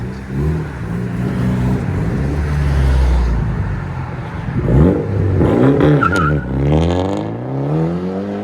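A 2014 Mitsubishi Lancer Evo with a six-speed and a fully straight-piped 3-inch exhaust exiting one side rumbles loud and close, then revs hard several times in rising and falling bursts.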